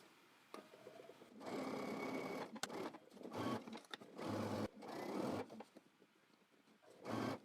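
A sewing machine stitches a trench coat pocket bag in several quick close bursts of rapid needle chatter, each run separated by brief pauses, with soft handling sounds between them.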